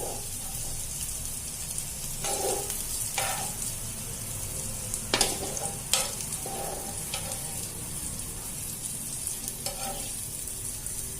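Pav bread shallow-roasting in a hot pan with egg masala gives a steady, continuous sizzle with scattered crackles and a few louder spatters, close by and without talk.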